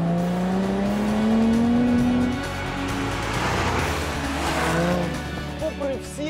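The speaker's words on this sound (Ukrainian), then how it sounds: "Маленька кнопочка, яка виводить вихлоп напряму повз глушники." A 3-litre convertible's engine, its exhaust routed straight past the mufflers, revs up with a rising, throaty note and tyre-like squeal, then drops back to a rumbling idle and blips again.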